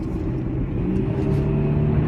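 An Audi A6 with 250 horsepower accelerates hard, its engine giving a loud, steady low rumble heard from inside the car, with no voices.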